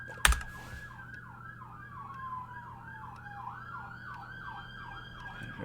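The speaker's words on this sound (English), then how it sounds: "the ambulance just went by" Ambulance siren wailing in a steady rising-and-falling pattern, moderately close and passing by, with a sharp click at the start and faint keyboard typing underneath.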